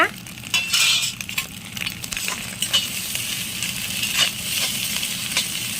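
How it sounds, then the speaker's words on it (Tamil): Chili and egg stirred and frying together in a pan for macaroni, with a steady sizzle beneath repeated scraping and clinking of a utensil against the pan, close and continuous with no voices. "சில்லி போட்டு நல்லா பரட்டி விட்டுருங்க முட்டை கூட முட்டையோட கலந்து விட்டுருங்க"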